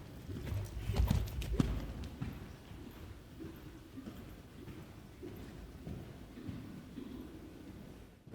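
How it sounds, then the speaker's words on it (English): Horse cantering at a showjumping clinic, rhythmic hoofbeats thudding on the arena footing with a heavier burst of strikes early on, then a steady moderate-distance canter rhythm continuing alone. "Keep that canter, yeah."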